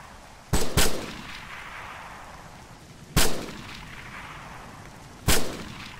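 Three heavy gunshots ring out in Arma 3 combat, a quick double blast followed by two single shots spaced a couple of seconds apart, each with a rolling echo over quiet background.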